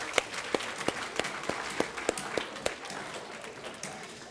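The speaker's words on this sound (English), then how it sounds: "So give yourselves a round of applause." Scattered hand claps from a school audience at a middle school academic competition, a dozen or so sharp distinct claps ringing out in an irregular rhythm over a low murmur, fairly close and modest in loudness.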